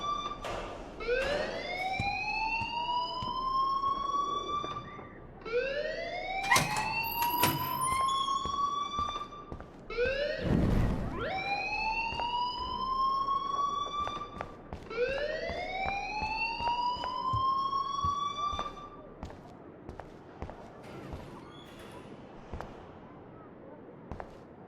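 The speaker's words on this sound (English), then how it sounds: "please turn off that alarm since that's your job" A fire alarm in the video game Life is Strange sounds in repeated rising, wailing sweeps, about four or five seconds apart, at a moderate level with small incidental noises between them.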